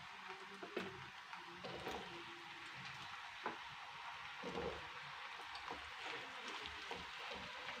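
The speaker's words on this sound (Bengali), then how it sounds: "গ্যাস আস্তে দিয়ে ভাজবো।" Banana slices fry in oil over low heat, making a soft, even sizzle with scattered faint pops and crackles that stays quiet and steady, with no voice.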